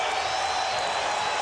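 Crowd in a basketball arena during a 2009 NBA playoff game between the Nuggets and Mavericks in Denver, a steady, loud roar of cheering and whooping that fills the space.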